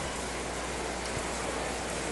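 Steady rain falls at an outdoor stadium during a Mexico versus USA under-20 soccer quarterfinal, a constant dense hiss with no pauses.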